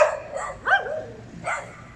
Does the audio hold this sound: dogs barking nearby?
yes